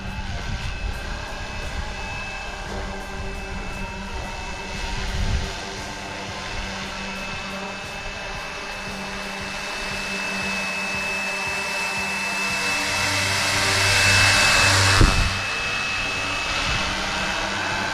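A Fly Wing AS350 Squirrel RC helicopter flies nearby, its steady whirring rotor and motor whine holding constant for a long stretch and swelling louder briefly near the end.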